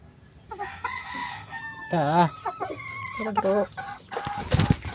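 A hybrid hen on a game farm, about to lay eggs, gives a series of loud, drawn-out clucking calls close by, with short pauses between them and a rustling burst at the end.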